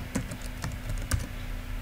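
Typing on a computer keyboard, with a few sparse, crisp key clicks close by in a quiet room and no talking.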